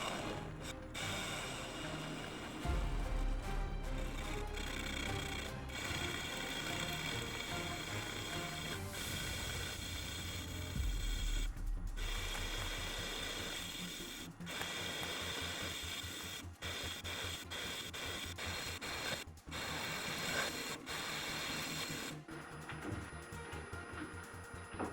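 A DIY CNC metal lathe machines C45 steel, its continuous mechanical whir and rattle running steadily and fairly loud, broken by repeated sharp clicks and brief gaps in the cutting.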